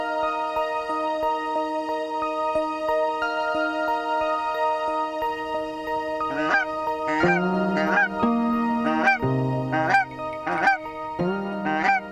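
Geese honking during goose banding in the central UP, calling in a flurry of repeated, overlapping honks that grow busier partway through, fairly close with no talking.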